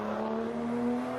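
A sim racing car at the Red Bull Ring holds a steady, close engine drone as it leaves the pit lane.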